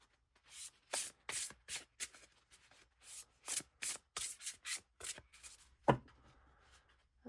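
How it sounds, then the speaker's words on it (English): An oracle card deck is shuffled by hand in a quiet room: a series of close, soft papery riffles and rubs in irregular bursts, with one sharper snap near the end. "It's a very smooth shuffle, I have to say."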